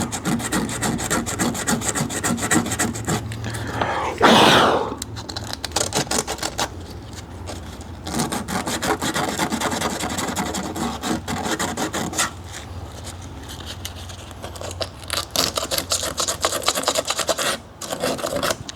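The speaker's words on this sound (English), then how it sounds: "Gonna go ahead and get some sandpaper for some fine" Coarse 80-grit sandpaper rubs over rusted metal on a 2004 Honda CR-V, a steady close-up rasping scrape with a louder burst early on, continuing in uneven strokes throughout.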